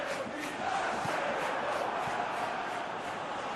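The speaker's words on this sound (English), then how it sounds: "Well, the crowd clearly like what they just saw." A stadium crowd in the football game PES 2021 roars and cheers in a loud, dense, sustained swell of many voices after a piece of defending.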